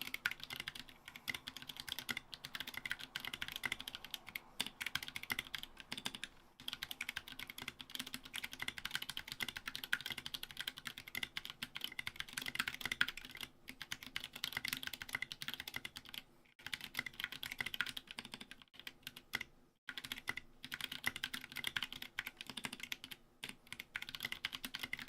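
Rapid typing on a Ducky One 2 Mini hotswap keyboard with SA keycaps and Mill-Max sockets, a dense, quiet, continuous clatter of keystrokes during a typing test, with a couple of brief pauses and no talking.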